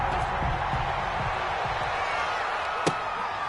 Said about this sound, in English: This crowd is ready as their guys get set to match up between the New York Jets